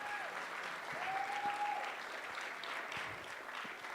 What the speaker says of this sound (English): can we give Miss Kimberly a round of applause?